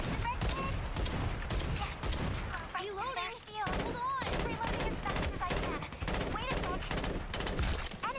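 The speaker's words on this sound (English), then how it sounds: "So you just shoot the enemy." Gunfire in the battle royale video game Farlight 84, dense bursts of rapid automatic shots layered with other game effects, loud and continuous, with a brief lull partway through.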